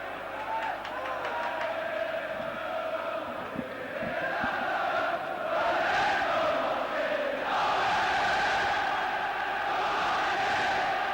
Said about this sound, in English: We can hear the Spurs fans giving as good as they get.